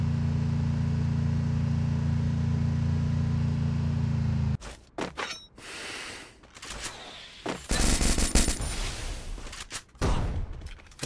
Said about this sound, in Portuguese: Ele tá trocando tiro.